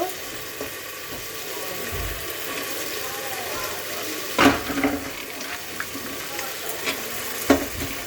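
Vegetables, including capsicum, carrot, potato, cauliflower, soybean and peas, are added to fried spices for fried rice and stirred, producing a low, steady sizzle with a few sharper clatters and scrapes.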